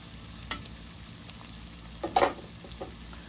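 An egg frying over easy in a pan gives a quiet, steady sizzle, broken by a few soft clicks and a brief louder scrape near the end.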